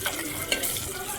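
Onions, tomatoes and green chillies frying in a pan make a short, close sizzle with soft stirring scrapes, steady and without speech.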